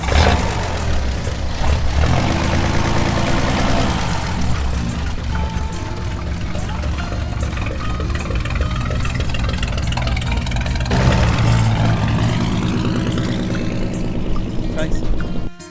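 Race car engines idle as cars line up at the Lake Perkolilli Red Dust Revival, a steady loud engine rumble filling the whole stretch with a busier surge near the end and people talking over it.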